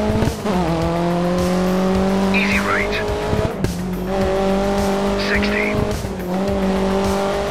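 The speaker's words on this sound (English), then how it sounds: "now I'm driving this 60s Alpine!" A 1960s Alpine rally car in Dirt 3, engine droning near and steady with repeated tire squeals as it skids through corners, while a voice talks over it.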